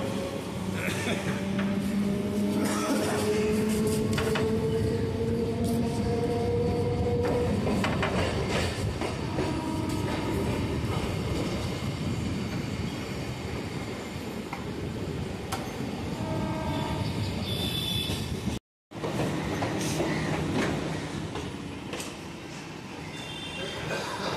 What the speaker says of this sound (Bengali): তো ট্রেন এখন বড়বাজার স্টেশন ছেড়ে বেরিয়ে যাচ্ছে।